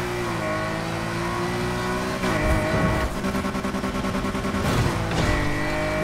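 The engine of a Nissan R34 GT-R V Spec in Need for Speed Heat holds a steady loud drone, then revs hard with rapid surges and a burbling, stuttering note during gear changes.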